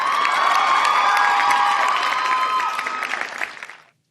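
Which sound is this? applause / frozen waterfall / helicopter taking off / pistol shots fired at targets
applause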